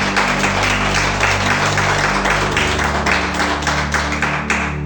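A church congregation claps steadily and fairly loudly in praise, a continuous dense patter of hands over a low sustained musical drone.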